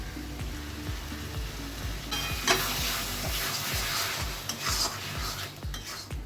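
Spice paste and tomato paste frying with potatoes in a pan for a katla fish head curry, steady loud sizzle with repeated spatula scrapes and stirring knocks against the pan, up close.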